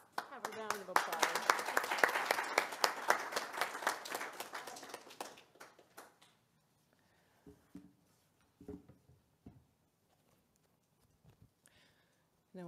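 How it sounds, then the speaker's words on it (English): Audience applause at a Sunday church service, dense clapping for about six seconds that thins out and stops, followed by a few scattered sounds and quiet. "Let's have a round of applause."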